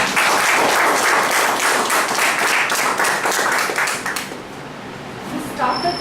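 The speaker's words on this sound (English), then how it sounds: "I would like everyone to give you a big round of applause." Audience applause for Srinivas Raju at a speaking evaluation, a loud burst of rapid clapping from a room full of people that fades out after several seconds, followed by faint sounds.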